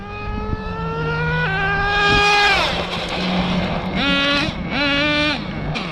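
An HPI Savage XL nitro RC truck with a Jato 3.3 engine and two-speed transmission, a high buzzing whine that drops abruptly at the shift, then repeated throttle blips that rise and fall, loud and near.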